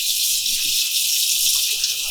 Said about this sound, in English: So right now I'm going to wash this bird off.